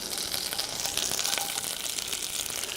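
Onions fry in butter and oil at a higher heat, caramelizing into a continuous close bright sizzle with a light crackle and no talking.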